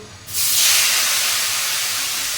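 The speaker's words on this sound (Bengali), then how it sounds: "টমেটোগুলো দিতে গেলে না এখন ছপাক করে উঠবে" Tomatoes hitting hot oil in a home Bengali kitchen burst into a sudden loud hiss and sizzle that stays steady, close and strong with no voice over it.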